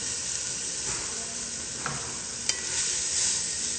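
Fresh herbs are stirred into a hot pan in a kitchen, giving a loud, continuous sizzle and hiss with a few soft scraping stir sounds and small clicks, with no talking.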